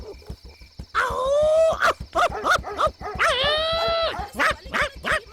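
Dogs yelp and whine in a quick volley, with two drawn-out howling cries between short sharp barks, close and fairly loud.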